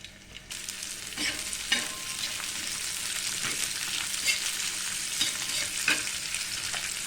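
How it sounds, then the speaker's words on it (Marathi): Chopped onion sautés in a pan for a spicy aloo matar bhaji, stirred as it browns: a steady, close frying crackle broken by occasional scraping strokes of the spoon. "आणि कांदा पण टाकून घेणार आहे याला चांगलं लालसर होईपर्यंत आपल्याला परतून घ्यायचं आहे"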